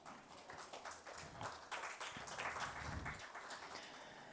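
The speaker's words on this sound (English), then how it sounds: "do join me in giving a big round of applause as we welcome our moderator" Audience applause for a panel moderator at a conference session, a steady wash of many hands clapping at moderate level that swells slightly midway and holds for several seconds.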